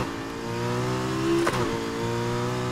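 McLaren P1 supercar in the racing game Need for Speed Heat, its engine revving steadily with a rising pitch that peaks and shifts midway, loud and close with no talking.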